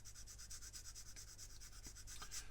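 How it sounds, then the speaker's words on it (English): Coarse micro mesh wrapped around a knife handle rubbing a part from a 1/72 Airfix Avro Vulcan plastic model kit, a quick steady back-and-forth scraping rhythm, close and quiet, no talk. "I'm just using some micro mesh, coarse micro mesh, wrapped around a knife handle"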